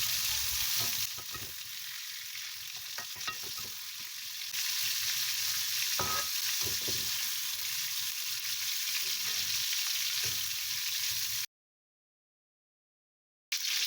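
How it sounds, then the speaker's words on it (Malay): Onions and dried chili are stirred in reused hot oil for sambal udang, giving a steady close sizzle and frying hiss with occasional spoon scrapes and clinks, then a sudden cut to silence near the end. "Guna minyak yang sama, kita tumis bawang tadi semua, cili kering tadi ya."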